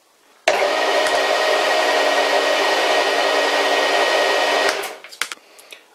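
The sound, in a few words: cheap Chinese lathe running after bearing replacement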